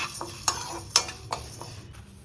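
Four tablespoons of toor dal being dry-roasted to golden brown in a pan, with a handful of sharp clinks and scrapes from a spoon against the metal over a faint, steady hiss.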